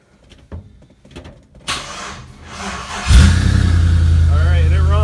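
After a few clicks and a rising whoosh, the engine of a Studebaker pickup rat rod cranks and catches, then settles into a loud, steady, rumbling idle close by.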